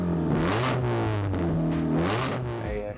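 A car engine with a custom-built exhaust, deep and throaty, revs up and down a couple of times, loud and close, rising and falling in pitch.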